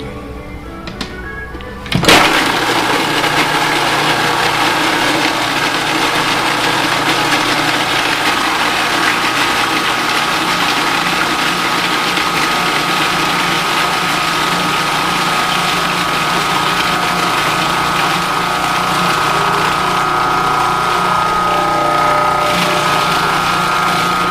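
A Cuisinart food processor whirs into action after a brief pause, then runs as a loud, steady motor drone with a constant whine for the rest of the stretch, mixing a salad dressing.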